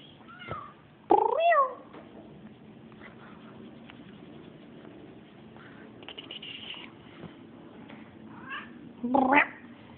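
A cat makes funny meowing noises: a few short, squeaky, quacking cries, with louder bursts near the start and near the end and quiet stretches in between, close to the microphone.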